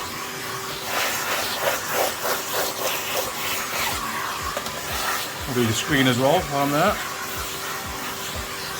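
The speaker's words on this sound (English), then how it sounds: "let's give it a quick vacuum first and get rid of the dust." A small vacuum hisses and whirs steadily close by, cleaning dust from a Toshiba C850 laptop keyboard, while someone talks over it throughout.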